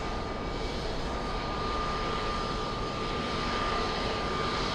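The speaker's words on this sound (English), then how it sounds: "Let's go over to the little Avianca taxiing right below us." A small Avianca jet airliner taxis below at an airport, its engines producing a continuous, steady roar with a faint whine, alone and without talk.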